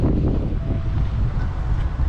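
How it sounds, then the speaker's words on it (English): Strong wind buffets the microphone at a town campground near Maryborough, a loud, steady low roar that fills the short moment with no voices. "Pretty windy"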